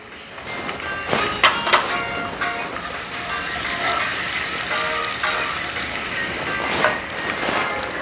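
Chopped ginger and garlic sizzle in hot oil, a steady close frying hiss with occasional louder crackles and spatters, no talking.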